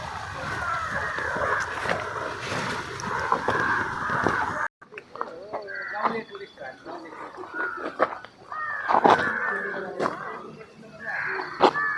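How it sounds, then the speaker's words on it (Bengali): Birds calling across a tea garden in the hills around Sonada, Darjeeling, with bright chirps and calls rising over steady outdoor ambience; the sound cuts off briefly midway, then calls continue, with scattered sharp notes close by. "চারিদিকে কেমন শুনতে পাচ্ছ শুধু পাখির ডাক"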